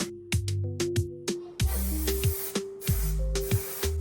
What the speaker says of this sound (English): To glue on the carpet I'm using this spray glue